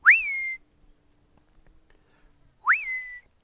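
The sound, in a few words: person whistling to call black leopards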